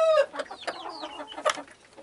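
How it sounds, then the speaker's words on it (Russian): A chicken clucks softly in short, uneven bursts while eating dry feed, close by, with faint pecking-like ticks between the calls. "Вот это же курочка кушает."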